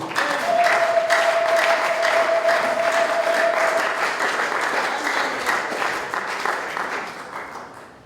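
A church congregation bursts into sustained applause, loud and dense at first with a long held tone above it, then slowly thinning over several seconds.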